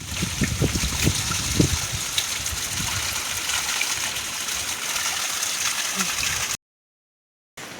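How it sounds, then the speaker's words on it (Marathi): A mountain spring of drinkable water on a trek to Lingacha Dongar near Devrukh, Angavli, flowing and trickling steadily up close with a few splashy bursts early on, then cut off briefly near the end. "तर इथे झरा आहे आणि झऱ्याचं पाणी तुम्ही पिऊ शकता."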